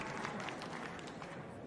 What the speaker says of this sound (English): Drew some applause from the crowd